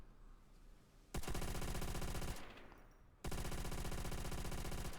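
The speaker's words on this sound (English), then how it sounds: "That is the MG42. Very high fire rate" An MG42 machine gun fires in Call of Duty: World at War, in two long, rapid, very fast bursts separated by a short pause, loud and close.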